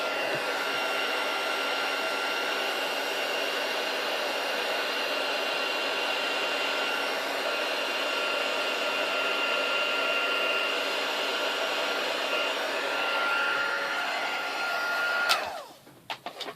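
A heat embossing tool blows hot air over a stamped Christmas card tag, a loud, steady, close whooshing drone that lasts more than fifteen seconds before it cuts off with a click and a brief handling noise.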